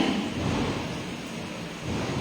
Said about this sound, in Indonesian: Sejak pagi tadi sudah hujan ya.